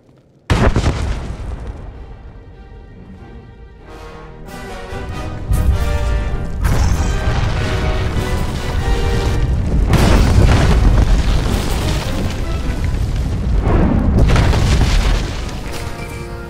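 A sudden loud blast in the Star Wars: The Old Republic video game on Corellia, followed by a long rolling rumble with further crashing booms and surges that sustain to the end.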